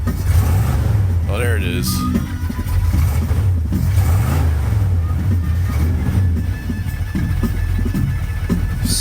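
A farm truck's engine revs loudly and close up, a deep rumbling roar that rises and falls with throttle blips, while people talk over it.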